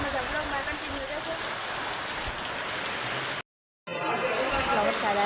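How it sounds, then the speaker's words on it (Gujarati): Steady rain falls outdoors on the way to a temple, a dense, even hiss of drops close by that cuts out briefly before resuming just as strong. "વરસાદ આવે છે"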